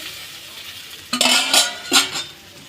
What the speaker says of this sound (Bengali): মশলাগুলোর সাথে সবজিগুলো একটু ভালো করে কষিয়ে নেব।